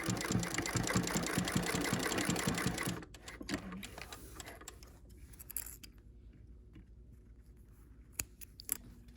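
Sewing machine stitching a quick tack through a cloth mask liner and shell beside a metal nose wire: a loud, rapid needle chatter for about three seconds, then it stops, leaving faint handling clicks and rustles.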